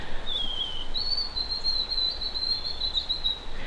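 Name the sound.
white-throated sparrow singing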